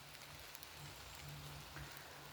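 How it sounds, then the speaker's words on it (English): Rain comes down steadily outdoors, an even, faint hiss of falling drops that holds without a break through the whole moment. "Oh, the rain's really coming down now I've taken my hood off."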